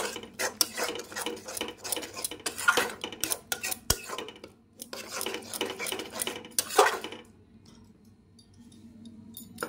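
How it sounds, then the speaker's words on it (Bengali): A utensil stirs spices into beaten sour curd in a pan over low to medium flame, giving repeated scraping clinks and knocks against the metal for most of the stretch, then a quieter pause near the end. "আর একবার নাড়াতে হবে টক দইটার সাথে মশলাটাকে।"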